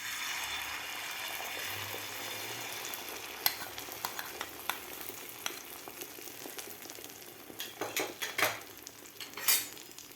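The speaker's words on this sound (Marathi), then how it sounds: "आता लगेचच आपल्याला हे अंडं फेटून घेतलेलं लगेचच आपल्याला तव्यावर घालायचं आहे" Beaten egg poured onto a hot oiled griddle for an omelette sizzles quietly, with a series of scraping clicks and utensil taps growing busier toward the end.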